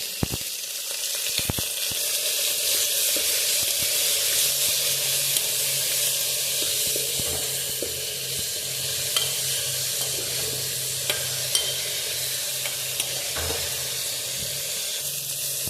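Ripe tomato frying in a pan for a brinjal dish, a steady close sizzle and hiss running throughout with a low hum and scattered clicks of stirring, no voices.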